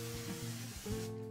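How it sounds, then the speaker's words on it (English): Cooking spray hisses onto a foil-lined baking sheet in short, close bursts, a couple of quick sprays with a brief pause between them. "I'm just going to spray it with some cooking spray."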